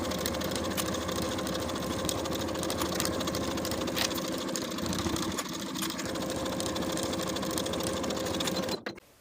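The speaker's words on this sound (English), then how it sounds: "Then we'll sew with a 5/8 inch seam allowance from one bottom edge all the way around" A sewing machine stitches a 5/8 inch seam around the edge of a Simplicity 8742 cardigan, running steadily and close for nearly the whole stretch before stopping abruptly at the end.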